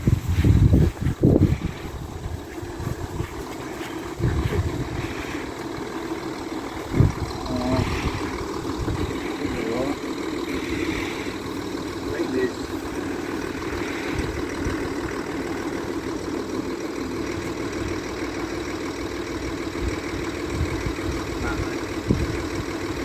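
A car engine idles steadily at moderate level before towing a caravan up a wet hill, a continuous low rumble with a few knocks and bumps early on and occasional talk in the background.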